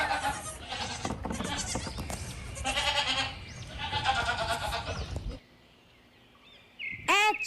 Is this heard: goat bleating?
yes